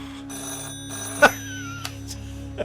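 A telephone rings with a short electronic bell tone, sounding once sharply and then a couple of fainter chirps, close and clear over a quiet background.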